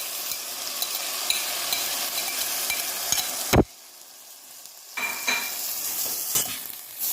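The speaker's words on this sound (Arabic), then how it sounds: "هلا بننزل عليها الفاصولية بهذا الشكل" Beans sizzling and being stirred in a frying pot, with busy scraping and clinks, then a sharp clatter as they are tipped in, a brief lull and renewed frying.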